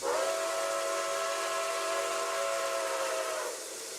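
An American steam whistle in the RO-Scale Sandbox game blows one long, steady, loud chime-like blast for about three and a half seconds with a faint steamy hiss behind it, then cuts off.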